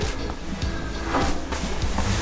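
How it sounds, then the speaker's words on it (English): A wood stove door is opened with a few close metallic clunks and scrapes over a steady room hum. "So you open the door like this."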